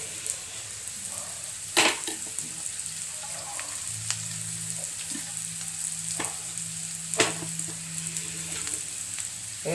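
Fried chicken pieces sizzle steadily in a hot pan, broken by a few sharp scraping clacks of stirring, close and unaccompanied by speech.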